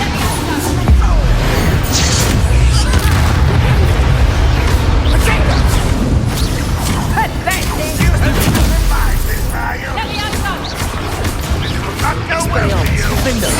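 Bombarda explosion spells cast in Hogwarts Legacy during a fight, heard as a dense, loud clamor of blasts and impacts mixed with game music and effects.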